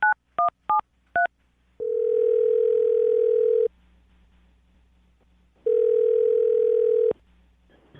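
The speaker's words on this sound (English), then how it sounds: "I'm going to dial the phone number right now." Touch-tone telephone keypad dialing a number: a quick run of short DTMF beeps, then two long ringback tones separated by quiet, clear and alone.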